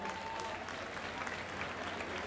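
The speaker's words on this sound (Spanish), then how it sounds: "Un aplauso para Nelson" Applause from an audience at a folk show, a steady dense patter of clapping hands filling the whole short stretch at moderate distance, with no voices over it.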